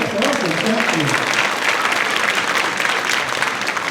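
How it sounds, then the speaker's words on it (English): An audience at an elementary school winter orchestra concert gives loud, dense applause that stays steady throughout, with voices mixed in. "you get another applause"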